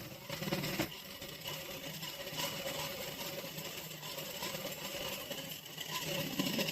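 A sewing machine stitches a palazzo, a soft, continuous mechanical whirr that runs steadily throughout with slight rises and dips.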